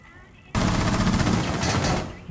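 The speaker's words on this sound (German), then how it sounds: "Alter, die schießen durch die Wand." Automatic gunfire shooting through a wall in Rainbow Six Siege, bursting in suddenly after a quiet lead-in and rattling in a rapid continuous stream for about a second and a half before cutting off, loud and close.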